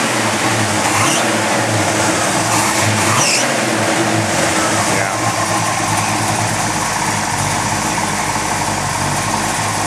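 A 1970 Plymouth GTX with a 440 Six Pack V8 and pistol grip 4-speed runs loud and close, a dense, steady engine roar filling the whole stretch with slight swells in intensity.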